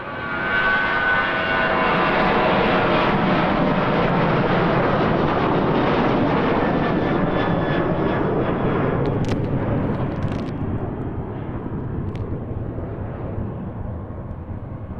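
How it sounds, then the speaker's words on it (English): A WestJet Boeing 737-700 jet airliner at Kelowna airport roars with a loud, broad jet rumble sustained for about fifteen seconds, gradually easing off near the end, with a few faint clicks and no talking. "WestJet 412 737 700."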